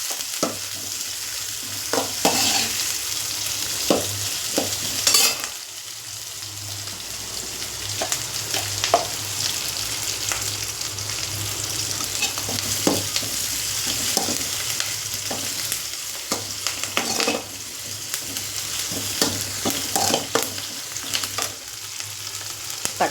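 Green chillies and curry leaves sautéing in a pan for soya fry, a continuous loud sizzle broken by the scrape and clatter of stirring throughout.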